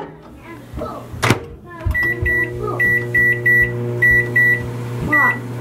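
A microwave oven beeps in a steady series of short, bright tones, with a hum running underneath and a thunk near the start.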